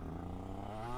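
A 125cc two-stroke motorcycle engine warms up at steady idle, a buzzing tone with harmonics that rises slightly near the end, close and continuous.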